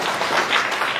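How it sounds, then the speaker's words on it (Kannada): An audience at a state-level abacus competition prize distribution applauds, a dense wash of clapping throughout, moderately loud and without talk. "ಅದಕ್ಕೋಸ್ಕರ ನಿಮ್ಮೆಲ್ಲ ಚಪ್ಪಾಳೆ ಇನ್ನೊಮ್ಮೆ"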